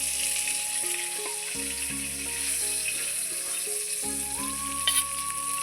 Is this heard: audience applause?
no